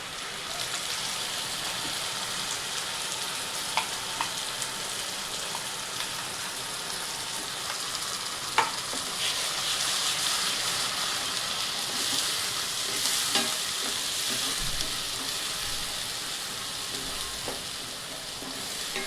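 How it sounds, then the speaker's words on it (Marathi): A ground masala paste of green chilies, onion, tomato, coriander, ginger and garlic frying in oil for an egg masala, giving a soft, continuous hiss and crackle with a few spatula scrapes, fairly quiet and without speech. "ह्याला आता सगळा कच्चापणा जाईपर्यंत परतून घ्यायचं"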